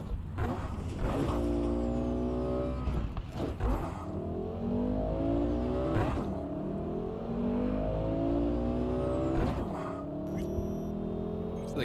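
In-game car engine from Cyberpunk 2077 drones steadily, rising and falling through repeated revs and gear changes, heard from inside the cabin at moderate level with a few thumps and no talking.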